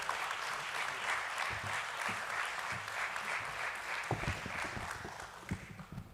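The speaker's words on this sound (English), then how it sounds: "Let's welcome him with a round of applause" Sustained applause from an audience at a stock exchange listing ceremony for INOX India Limited at BSE, steady and dense for the full stretch with a few sharper claps near the end.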